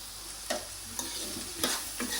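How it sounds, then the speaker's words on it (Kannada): Vegetables for gobi fried rice are stir-fried over a high flame, giving a quiet, steady sizzle with a few soft, evenly spaced scraping stirs. "ವೆಜಿಟೇಬಲ್ಸ್ ಸ್ವಲ್ಪ ಫ್ರೈ ಮಾಡ್ಕೊಂಡಿವಿ."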